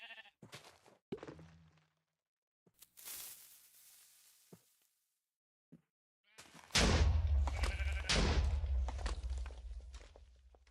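Sheep in the Minecraft video game bleat several times among scattered footsteps and game noises. Near the end, a loud, dense burst of explosion-like sound follows.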